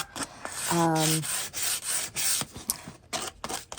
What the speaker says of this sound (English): I just sanded it down using 3 different sandpapers, going from a 120 all the way up to a 320, just to get it nice and smooth.